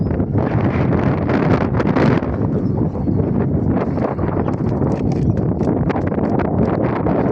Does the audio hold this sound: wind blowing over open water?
yes